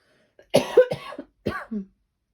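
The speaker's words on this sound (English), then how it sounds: "I just had a coughing fit" Several harsh, close coughs from someone recovering from pneumonia come in quick succession, a burst of hacking followed by a couple more rough coughs.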